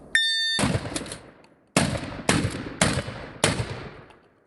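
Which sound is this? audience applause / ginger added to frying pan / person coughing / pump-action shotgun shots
pump-action shotgun shots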